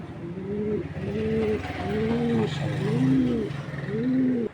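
Pigeon cooing, repeated rolling coos in a steady rhythm, close and clear throughout, no talking.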